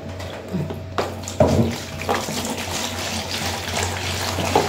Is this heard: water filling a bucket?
yes